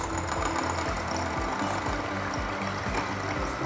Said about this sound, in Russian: Взбиваем холодные из холодильника сливки. Сначала на средней скорости,